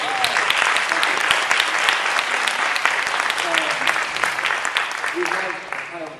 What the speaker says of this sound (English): can we start just a round of applause for our Oakland education community?